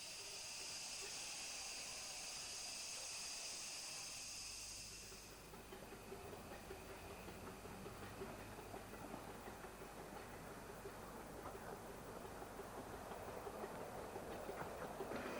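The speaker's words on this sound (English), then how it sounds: "Running around its train, Dr. Sin goes onto the railway's second turntable to be turned for its return journey." Steam locomotive Doctor Syn running around its train at Hythe station, a faint, distant hiss of steam that gives way to a low rumbling and clanking of the engine moving, with quiet background throughout.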